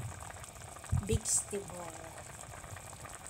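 A pot of salmon sinigang soup with okra and bok choy boils with a soft, steady bubbling. Someone speaks briefly over it, and there are a few clinks near the middle.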